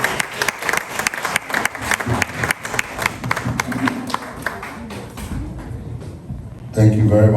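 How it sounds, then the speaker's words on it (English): Applause welcoming a speaker at a Fathers Day conference, with sharp distinct claps from a modest crowd and a voice speaking over the end. "Ladies and gentlemen, with a round of applause, Honorable Afriyie Ankra."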